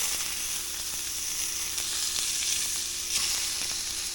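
Striped bass fillets fry in a hot pan with a loud, continuous sizzle, a dense crackling hiss up close with small sputters and no voices over it.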